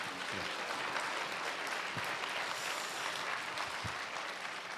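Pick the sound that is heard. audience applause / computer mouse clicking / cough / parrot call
audience applause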